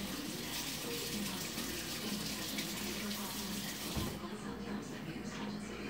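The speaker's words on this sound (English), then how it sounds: "I'm just going to rinse off the hollandaise from the whisk" Tap water runs steadily into a sink as hollandaise is rinsed off a whisk, a continuous broad splashing rush that cuts off sharply near the end.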